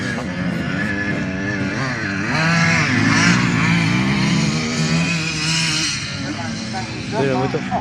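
A vintage rally car engine in a video game drones and revs through shifting pitches, with people talking over it throughout.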